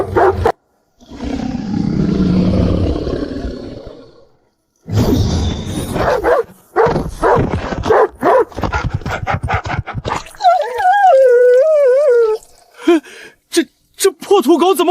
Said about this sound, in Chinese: 去把那几条狗给我放开，让这丫头长长记性。